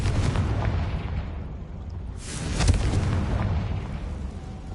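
A Confringo spell explosion in the Hogwarts Legacy video game erupts as a deep, rumbling blast, followed by a second heavy burst and a lingering low roar of debris and fire.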